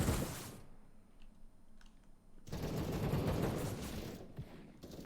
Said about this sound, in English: pushes in through mid on that SMG. Gets one, gets two.